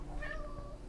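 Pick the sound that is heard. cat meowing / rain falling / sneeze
cat meowing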